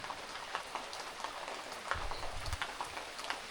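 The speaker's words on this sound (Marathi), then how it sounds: "पाऊस आहे ना मध्येच रिमझिम होतो आहे, मध्येच जोराचं येतो" Steady monsoon rain falls continuously in the Konkan, a dense patter of drops on surfaces with a brief low rumble partway through; no voices.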